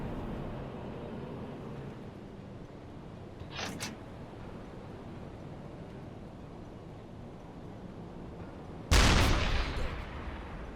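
Gunfire and explosions from a U-boat video game: a short burst of gunfire near the four-second mark, then a loud explosive blast around nine seconds that rumbles and fades, over a steady background roar.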